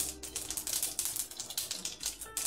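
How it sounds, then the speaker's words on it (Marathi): Mustard seeds sizzle and pop in melted ghee, with rapid irregular crackles and spits heard close up against a hot background hiss. "हे तूप मेल्ट झाल्यानंतर ही मोहरी"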